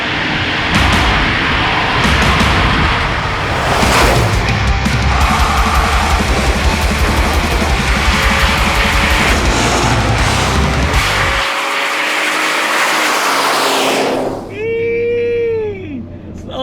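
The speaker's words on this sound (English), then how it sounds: "see if it'll do some burnouts" A Ford EcoBoost turbo shop truck roars through a burnout, its loud, dense engine and tire noise holding steady before cutting off sharply, with voices shouting over it near the end.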